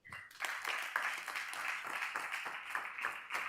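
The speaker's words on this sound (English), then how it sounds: "Please, can we keep the clap coming?" An audience at a content creation event keeps clapping in sustained applause that stays fairly even and moderately distant after a brief quiet start.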